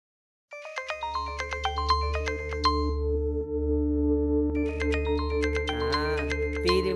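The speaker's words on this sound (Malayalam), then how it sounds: "ആ മൊബൈലൊന്ന് റിങ് ചെയ്തടാ" A mobile phone ringtone plays a bright, repeating electronic melody for about six seconds over a steady low hum. It grows busier and louder toward the end, with no talk.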